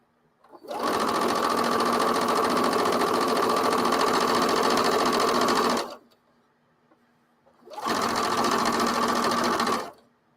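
Sewing machine stitching a quilt at a narrow stitch length, two steady close bursts of motor whir, the first about five seconds long, a silent pause, then a shorter second run.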